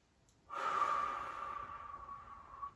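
A single slow, audible breath during a seated yoga strap stretch for the glutes, rising suddenly and then easing out steadily for about two seconds, close and fairly quiet with no talking.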